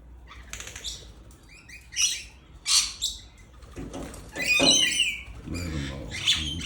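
Parrots chirp and call while feeding on scattered grain among pigeons and starlings, with bursts of bright tweets and squawks alongside wing flaps, close by and fairly loud, with someone talking between calls.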